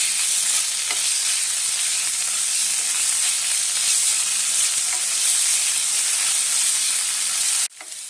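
Crushed green chili and garlic frying in a pan, a loud steady sizzle that runs unbroken for several seconds before cutting off abruptly near the end.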